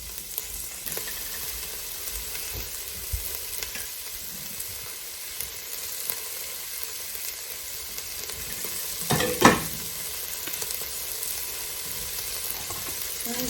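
Soup stirred and simmering in a pot on the stove, a steady low sizzle and bubbling hiss throughout, with a brief louder scrape or clatter of the spoon near the end.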